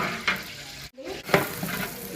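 Oil with green chillies, cabbage and onion frying for egg fried rice gives a close, busy sizzle with scraping stirs, briefly dropping out for a moment before the hiss and clatter return.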